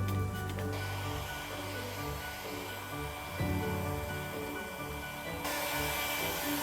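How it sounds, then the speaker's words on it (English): A steady blow dryer whirs continuously with a broadband airy roar, briefly shifting in pitch as it's moved over an image transfer on wood, with no talking. "I'm going to use my blow dryer and just see if that'll work"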